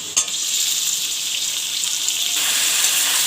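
Chicken pieces frying in hot oil with browned onions and whole garam masala, a steady close, loud sizzle that intensifies slightly near the end, with no talking.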